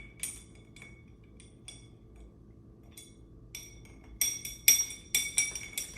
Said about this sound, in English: Directly in over the ice. We want to just give that a little stir.